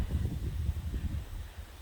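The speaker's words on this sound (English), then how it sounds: "it's pretty windy today." Wind blows steadily, rumbling low against the microphone in gusty buffets, with no voices present.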